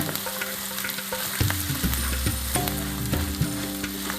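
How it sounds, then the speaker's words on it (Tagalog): Spicy pork sisig sizzles hard in a hot pan, a dense, constant crackle with occasional close scrapes and knocks as it is stirred. "Naging sizzling na. Sisig, sizzling."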